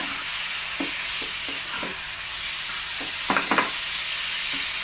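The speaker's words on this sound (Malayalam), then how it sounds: "ഇളക്കി കൊടുക്കുക." Chicken and masala stirred in olive oil in a frying pan for a spicy chicken pasta, giving a constant close sizzling hiss broken by soft scraping taps of the spoon against the pan.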